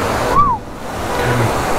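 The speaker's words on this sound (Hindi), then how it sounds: "हम बात कर रहे हैं इसकी, इस झरने की भाई" A waterfall near Dehradun gives a steady, close rushing roar of falling water, broken only by a brief faint whistle-like sound early on.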